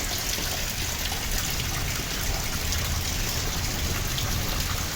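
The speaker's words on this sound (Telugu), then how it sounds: "వర్షం అయితే చాలా ఫుల్గా పడుతుంది" Steady, heavy afternoon rainfall in Visakhapatnam under heavy cloud, with a dense hiss and pattering drops on surfaces, continuous and fairly loud throughout, with no voices.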